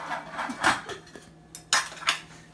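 Metal cooking pots and lids, one pot meant for rice and a lid with holes in it, clank and clatter up close in a few sharp bursts with quiet gaps between.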